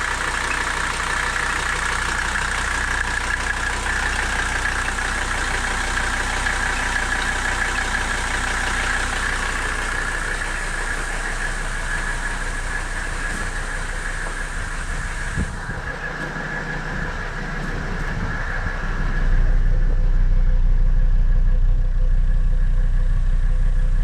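An old Mercedes 300D diesel idles nearby with a steady, even clatter, and the engine note grows louder and deeper toward the end.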